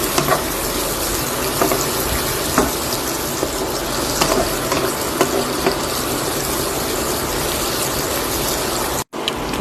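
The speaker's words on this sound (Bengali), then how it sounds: "একটা ডিম ফাটিয়ে দিয়ে দিয়েছি। এটা পেঁয়াজের সঙ্গে যে ফ্রাই করবো।" An egg fries with onion in a hot pan, giving a steady, close sizzle with faint scraping and stirring taps scattered over it and a brief dropout near the end.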